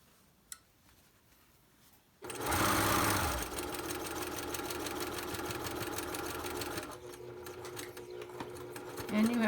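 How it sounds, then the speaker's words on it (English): Sewing machine stitching a mask lining to the face fabric, a fast steady mechanical whir and rattle that starts suddenly after a quiet pause and runs continuously, loud at first and then slightly softer. "And you have just sewn the lining to the face."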